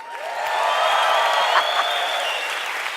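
A large audience at the Hispanic Heritage Awards claps loudly and continuously, a dense wash of applause with scattered cheers that swells and then holds steady.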